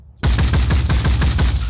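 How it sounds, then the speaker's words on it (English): An automated turret in the video game Phoenix Point fires a rapid burst of about ten heavy, evenly spaced shots that starts abruptly after brief quiet and stays loud and close throughout. "Some automated fire from our turret actually did quite well."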